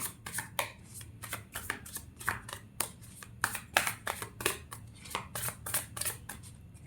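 Crisp, rapid riffles and snaps of tarot cards being shuffled, repeated in quick bursts throughout, close and fairly quiet with no talking.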